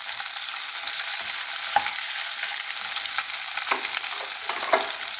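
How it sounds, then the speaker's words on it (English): Steady, hissing sizzle of pork and onions stir-frying in a hot wok, with occasional clinks and scrapes of stirring scattered throughout. "continue frying this for another 2 minutes"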